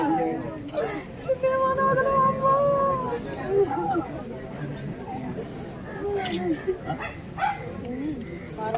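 Police dog squad dogs during a security check bark and whine in a few short bursts amid crowd babble and nearby talk, one drawn-out whining yelp standing out early.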